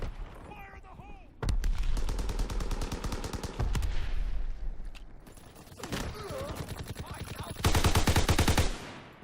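Rapid bursts of submachine-gun fire from a Call of Duty WW2 Domination match, loud and dense, arriving in several sustained volleys separated by brief lulls, with faint in-game callouts and other battle noise mixed in.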